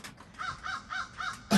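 A crow gives four evenly spaced harsh caws, fairly close and loud, ending with a short burst of rustling noise, with no talking.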